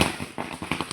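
Firecrackers burst at a wedding celebration in a quick irregular series of sharp cracks, several pops close together over about a second, loud and close with crowd noise behind.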